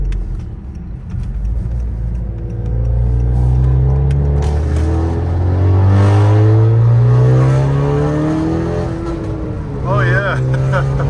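A 2018-2021 Honda Accord Sport 2.0T driving on a test drive after a torque mount install, a steady engine hum rising and shifting in pitch inside the cabin while people talk over it.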